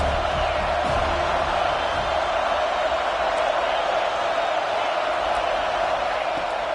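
Dense crowd roar in an American football video game on a big third down, a continuous loud wash of cheering and noise from a packed stadium that stays steady throughout.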